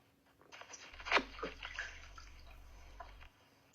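Water sloshes and splashes in a bathtub during a bath, close and moderately loud, with a low rumbling run of water underneath and no talking.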